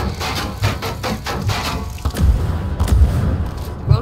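Gunfire in the video game Ghost Recon Breakpoint, a rapid run of sharp shots and heavier thumping booms in irregular bursts, close and fairly loud.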